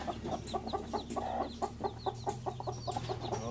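Hens cluck in repeated short calls at close range while their seven chicks peep high and faint around them, a busy, steady stream of soft clucks and cheeps.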